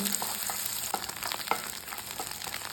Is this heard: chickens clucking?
no